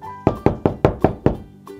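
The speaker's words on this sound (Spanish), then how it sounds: "Otro animal toca la puerta." Six firm knocks on a door in a steady, even rhythm, loud and close, followed by a brief faint tone, with no talking.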